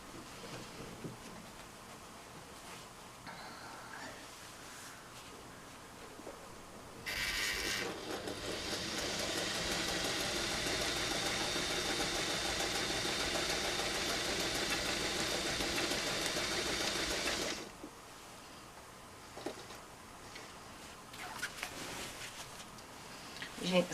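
A quilting machine stitches in the ditch on a full-size quilt, a steady mid-loud mechanical hum with a rapid needle rhythm that runs for about ten seconds. Quieter handling noises come before and after it.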